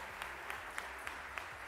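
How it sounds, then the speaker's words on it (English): Audience applause at a graduation felicitation ceremony honoring valedictorians, a steady wash of clapping sustained throughout with a few sharper claps standing out, quiet and somewhat distant. "Round of applause."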